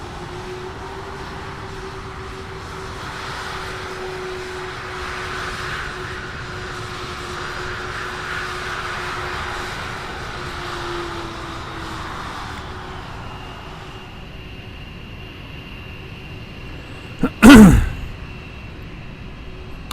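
A TAP Portugal Embraer jet arrives at Lisbon in Microsoft Flight Simulator 2020 with a steady engine rumble and whine that fades toward the end, followed by a sharp short burst of noise.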